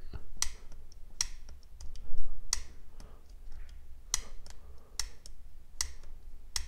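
Sharp, crisp clicks from the lock of a Civivi Cogent folding knife, about ten distinct snaps spaced irregularly over several seconds, close and fairly loud against a quiet background, with a faint sticking quality to the lockup.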